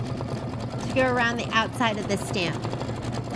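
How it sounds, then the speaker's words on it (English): An embroidery sewing machine runs a steady rapid stitching drone around the outside of a Christmas stamp quilt block, loud and close, while a person talks over it. "now we're going to do 9 minutes of stitching to go around the outside of"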